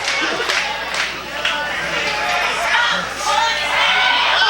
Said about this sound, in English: Pocket of fans here in the crowd.